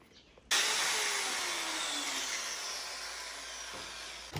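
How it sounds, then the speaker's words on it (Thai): Power drill boring into a new door frame during repair of a rotted, termite-damaged door: a sudden loud, high whine that runs steadily for several seconds close by, slowly dropping in pitch as it works, with no talk. "แล้วก็ต้องเจาะอันใหม่เนาะ"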